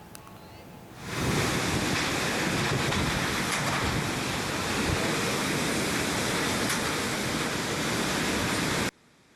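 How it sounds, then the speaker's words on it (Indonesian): Strong wind roars steadily and loudly through a village in Ngepung, Nganjuk, East Java, a dense broadband rush after a brief quieter start, buffeting the microphone until it cuts off near the end. "rekaman video amatir warga saat angin kencang melanda desa Ngepung"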